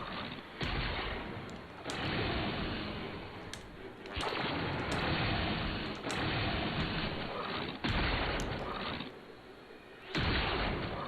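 Archwing weapons fire during the Jordas Golem fight in Warframe, with dense sustained bursts of shooting broken by short pauses, loud and close, and no voices present.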